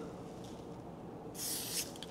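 A spray paint can hisses in one short, bright burst while a picture is being painted, over a steady low background murmur.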